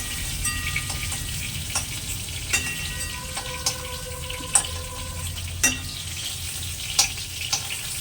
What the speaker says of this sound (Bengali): মাছ ভাজা হয়ে গেছে এখন এগুলোকে আমি তুলে নিচ্ছি